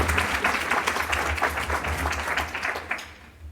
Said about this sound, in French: On peut les applaudir effectivement.